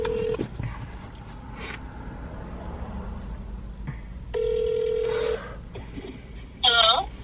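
A phone call being placed from a mobile phone: a steady tone around 4.5 to 5.5 seconds, then a brief warbling ring burst near the end, each standing out over a soft background hum.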